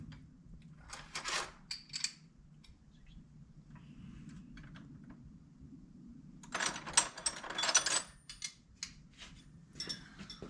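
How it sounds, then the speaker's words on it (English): A hand wrench works the rocker arm nuts on a John Deere G tractor, giving bursts of metallic ratcheting and clinking in two clusters, close and moderately loud, with quieter handling noise between them and no talking. "So now we need to get a wrench, pull these off."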